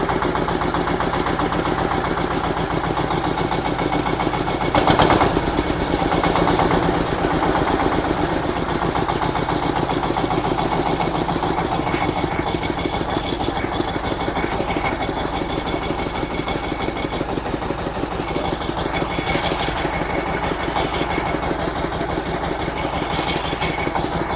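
A Kentavr 350VR mini tractor's small diesel engine runs steadily at close range, its even, throbbing chug continuing throughout with slight changes in pitch.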